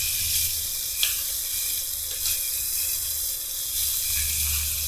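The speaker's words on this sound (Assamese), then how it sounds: "তেলখিনি উজাল আহি গ'ল, তেতিয়া এইখিনি মাছখিনি দিছোঁ লাহে লাহে, সৰু মাছ" Small fish sizzle steadily in hot oil in a home kitchen, a continuous frying hiss close by with a few soft clinks, and no talking.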